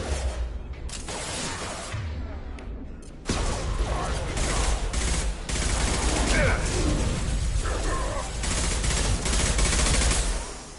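Sustained heavy gunfire in Mass Effect 2, dense rattling automatic shots and mechanical clatter continuing loudly almost without break, with the din thickening after a brief lull early on.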